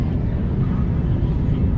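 Jet aircraft passing overhead on a hot day, a loud, steady low rumbling roar that holds evenly across the short stretch with no talking.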